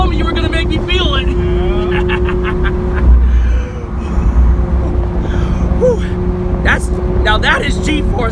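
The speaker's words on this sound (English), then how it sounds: "That is pure V12 Italian horsepower right there" A 2016 Lamborghini Aventador SV's V12 engine revs and pulls hard from inside the cabin, a loud sustained drone rising in pitch, with people gasping and talking over it.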